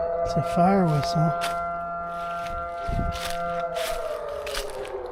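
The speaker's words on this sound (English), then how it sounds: "Siren, fire siren." A wailing fire siren rises and falls in the open air, heard from a distance over a paved outdoor walk. A voice talks briefly over the start, and one dull thump lands near the middle.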